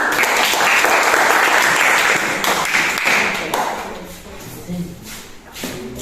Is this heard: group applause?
yes